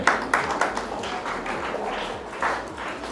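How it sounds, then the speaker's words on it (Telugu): Audience of children and adults at a school playground inauguration clapping on request, a steady wash of applause with a few sharper claps standing out, moderately loud and sustained throughout. "చప్పట్లు కొట్టుకోండి మీకు"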